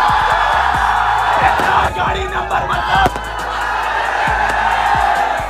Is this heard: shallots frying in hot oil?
no